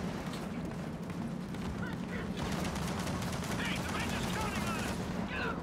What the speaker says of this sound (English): Oh, now he's shooting me.